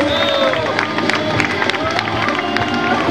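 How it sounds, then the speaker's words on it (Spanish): Guests at a rock-themed mock wedding in Málaga break into loud applause and cheering right after the couple is pronounced, a lively crowd roar with clapping and excited voices mixed throughout. "un aplauso!"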